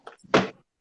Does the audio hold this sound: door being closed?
yes